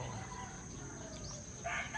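Roosters crowing in turn at about 6:30 in the morning, faint and fairly distant, with one crow rising near the end over a quiet background hum.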